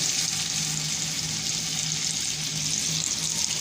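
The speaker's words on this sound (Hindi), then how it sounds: "अब हमने ऑयल गर्म कर लिया है, तो इसके अंदर हम डाल लेंगे" Marinated fish fries in hot oil at home, a steady, close crackling sizzle with fine popping that continues evenly throughout, with no talking.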